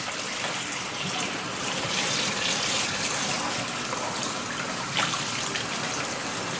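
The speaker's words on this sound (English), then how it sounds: "I'm rinsing off my pork chops." Tap water runs steadily over pork chops being rinsed, a continuous close splashing gush with small variations as the meat is turned.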